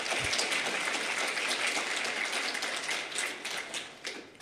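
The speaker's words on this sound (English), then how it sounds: "I was expecting a lot of applause," An audience applauds at a security conference talk, a dense burst of clapping that stays loud and then thins and fades toward the end, with no speech over it.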